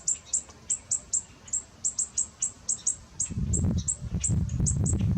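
Birds chirp in quick repeated high tweets, evenly spaced, while a low rumbling noise rises underneath in the second half.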